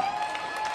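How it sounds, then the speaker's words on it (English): Stadium crowd at a Sacramento Republic FC versus Real Monarchs SLC soccer match applauding steadily at a distance, a diffuse wash of clapping with a thin steady tone over it. "And so now the crowd starting to applaud as they see him make his way toward the fourth official."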